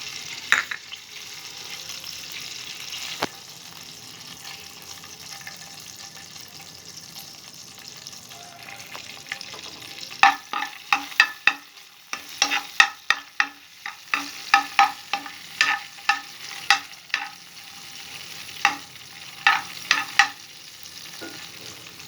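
Green chilies fry in a pan for chicken noodles: a steady low sizzle throughout, then sharp clattering stirring strokes that come close and loud from about halfway through.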